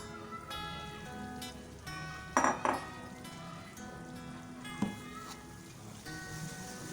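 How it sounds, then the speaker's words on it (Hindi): Gram flour (besan) roasting in hot oil in a pan as a spoon stirs it: soft scraping and a quiet sizzle, with a few sharp clinks of the metal spoon on the pan. "ऑयल हमारा गर्म हो चुका है। सबसे पहले इसमें बेसन जाएगा।"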